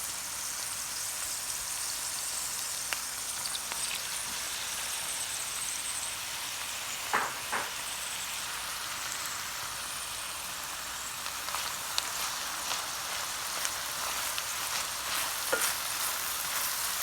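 Chopped leeks sizzle in a Le Creuset 5-quart braiser for potato and leek soup, making a steady, dense frying hiss with occasional soft scrapes and clicks from stirring.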